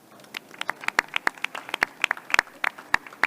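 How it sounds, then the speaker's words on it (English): Scattered applause from a small audience at a health tech competition, thanking sponsors; distinct individual claps, fairly close, irregular and sparse rather than a dense roar. "So we can have a round of applause for our sponsors."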